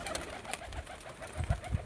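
A red pair of pigeons coos softly nearby, with a few low throaty coos near the end of the clip over faint background noise.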